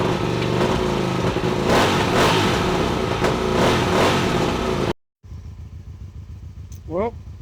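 A motorcycle engine runs loud and steady, with repeated swells as it is revved, then cuts off abruptly; a quieter idle follows with a brief rising rev near the end.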